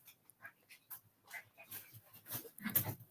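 Puppies whimpering and panting close by in short, uneven bursts of high whines and soft breaths, with no talking over them.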